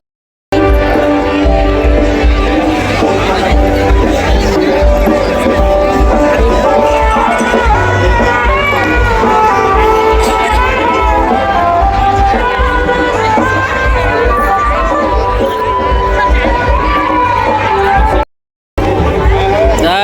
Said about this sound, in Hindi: देखो बहुत भीड़ है संगवारी हो